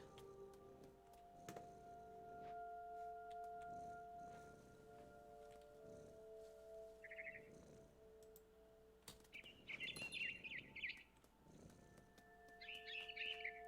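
Small birds chirp in short, high clusters inside the What Remains of Edith Finch game, fairly faint over a low ambient hum and soft rustling, with the tweets bunching toward the end.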